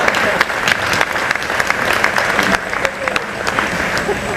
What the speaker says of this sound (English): I think that's worth some applause.